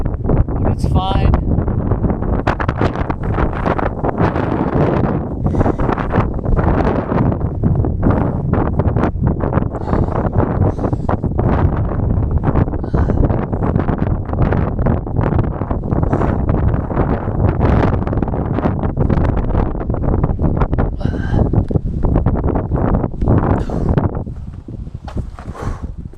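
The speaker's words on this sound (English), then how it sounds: "It's really windy" Strong gusts hammer the microphone on the summit of Katahdin, a continuous heavy roar with rustling bursts lasting throughout, while hikers talk intermittently beneath the buffeting.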